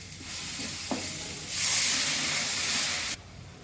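Water poured into a frying spice paste for a masala aar fish curry bursts into a loud, bright sizzle that swells for about a second and a half and then cuts off, with quieter frying before and after.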